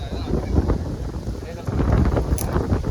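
Strong gusting wind buffets the microphone outdoors near a river, a steady low roar that swells and thickens in the second half, with faint voices underneath.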